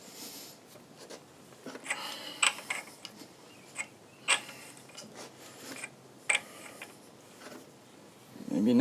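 Socket wrench working on a junkyard LS 6.0 engine, with scattered clicks and short mechanical ratcheting bursts, close and moderate, separated by quieter gaps.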